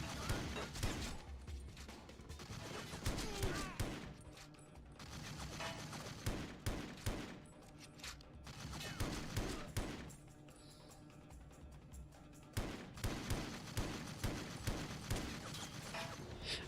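Gunfire in the video game 007: Everything or Nothing, dense bursts of rapid shots and mechanical clatter rolling on almost continuously at moderate level, broken by a few brief lulls.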